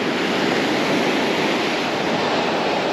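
Ocean surf washes onto a beach at a surf-fishing spot, a steady, loud roar of broken waves with a constant hiss and no voices.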